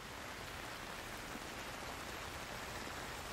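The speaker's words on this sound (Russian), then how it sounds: "Дождь?" Steady, hissing rainfall, a dense even patter with no pauses or voices.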